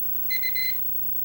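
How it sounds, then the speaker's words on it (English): Kitchen timer alarm going off on a stovetop cooker, three quick electronic beeps in a short burst over a faint background hum. "Okay, there's the timer."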